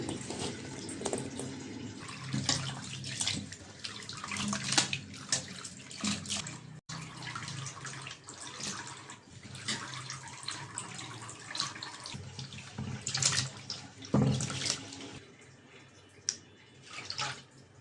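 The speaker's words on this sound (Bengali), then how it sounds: "মাছগুলো ধুয়ে নেব লবণ মেখে রেখেছিলাম" Small sea fish, salted beforehand, being rinsed by hand under a running kitchen tap, a continuous close splashing flow with shifting gurgles and surges as the fish are handled, no voices.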